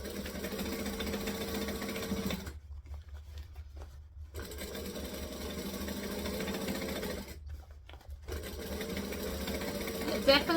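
A sewing machine stitching a child's hat runs in steady humming bursts of rapid needle clatter, stopping twice for short pauses before starting again, close and clear.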